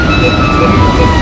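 A train pulls out of Zurich HB bound for Basel, heard from on board as a loud, steady rumble with faint high whining tones running throughout.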